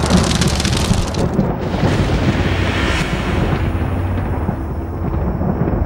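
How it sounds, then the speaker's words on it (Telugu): Thunder rolls through a film scene amid heavy rain, a loud sustained rumble swelling and fading over several seconds with crackling bursts and a constant wash of rainfall, no speech over it. "అరే అవి ఉరుములురా"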